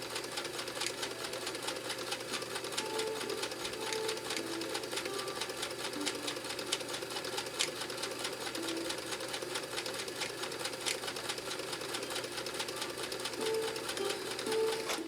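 A Kenmore sewing machine stitching fabric, a rapid, even mechanical whir with fine ticking that runs steadily and close for the whole stretch.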